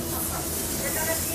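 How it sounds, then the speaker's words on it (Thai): Alcohol disinfectant spray hissing out of a spray bottle in a steady, fairly loud burst of breathy noise, close to the listener. "สเปรย์แอลกอฮอล์นะคะฉีดฆ่าเชื้อนะคะ"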